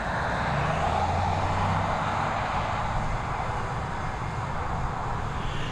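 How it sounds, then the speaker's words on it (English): An Iberia Express Airbus A320 at Dublin Airport drones with a steady, loud jet engine roar, a broad sustained rumble holding nearly constant with a low tonal hum underneath. "This Airbus A320 operated by Iberia Express."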